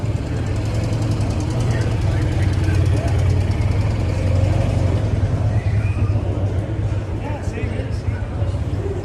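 A 1957 Harley-Davidson Sportster motorcycle engine idles close by with a steady, lumpy low rumble and a loping beat throughout, and faint voices are heard in the background.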